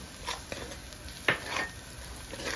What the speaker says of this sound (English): All of this needs to fry up really well.